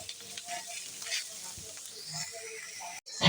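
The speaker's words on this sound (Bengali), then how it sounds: "এখন এটাকে আমি খুব বেশি ভাজবো না, একটু ঘিয়ের মধ্যে হালকা করে ভেজে" Bottle gourd pieces fry lightly in ghee with a soft, steady sizzle and occasional stirring scrapes, quiet and close, ending with a brief clatter.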